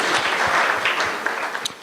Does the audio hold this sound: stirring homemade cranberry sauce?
no